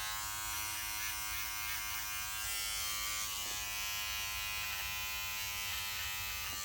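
Battery-powered electric trimmer cutting facial hair, a steady close buzzing hum that wavers slightly as it works and runs on without pause.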